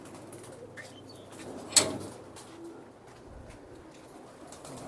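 Pigeons of several kinds, among them Teddy pigeons, coo faintly inside a shed, with one sharp knock or flap standing out near the middle against a low, steady background.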